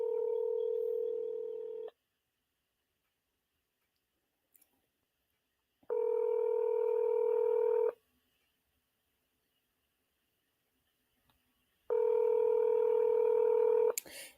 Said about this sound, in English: I'm calling the 901 number back.